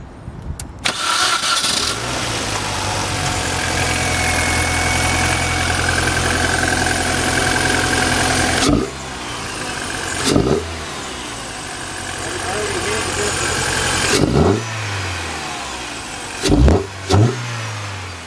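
A 2005 Mini Cooper R50 with a newly fitted cold air intake cranks and fires up, then settles into a loud, steady idle with a few sharp throttle blips near the end.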